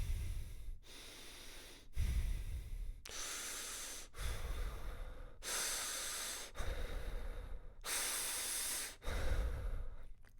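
A person breathes in repeatedly through the nose and a slightly open mouth, each airy, hissing inhale growing louder and fuller, separated by short pauses in a close, quiet setting.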